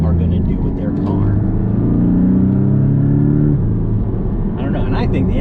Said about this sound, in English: I think the engine sounds awesome.